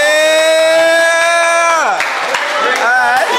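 An audience at an outdoor face-to-face street show in Saint Louis gives a loud, sustained cheer that slides downward, followed by scattered claps and shouts.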